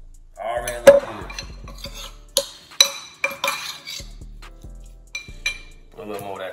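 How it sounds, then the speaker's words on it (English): A little spoon stirs and clinks against a bowl while mixing a shrimp and black bean filling for dairy-free quesadillas, with scattered near taps and scrapes in an irregular rhythm, alone without talk. "Get your little spoon, you don't want to get your hands dirty, and just mix it up, man."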